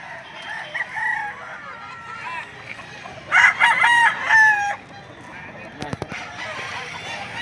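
A rooster crows loudly at the Lipa livestock auction market in Batangas, amid scattered clucking from caged chickens and a busy background murmur of voices.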